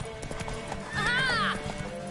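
A horse gallops in The Witcher 3 with rapid, rhythmic hoofbeats and a loud whinny rising in the middle, while a voice talks over the action.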